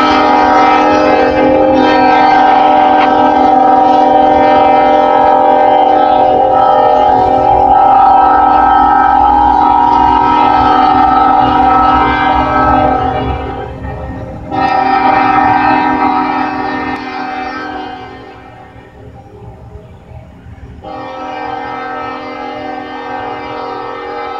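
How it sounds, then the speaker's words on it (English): A Norfolk Southern SD40-2 locomotive sounds its K5LLA five-chime horn in long, loud, rich chords close by, with two short breaks, then fades under the rumble of the passing train. "I asked the engineer, can he hit the horn for me? Ooh, that sucker sound good on the SD40."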